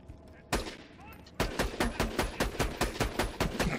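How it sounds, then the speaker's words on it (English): Rapid gunfire in Borderlands 2, a single loud report followed by a brief pause and then a fast, regular burst of sharp shots, loud and close. "Is that a sniper shot?"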